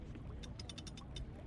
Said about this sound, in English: You can use the winch because now it's kind of loaded up.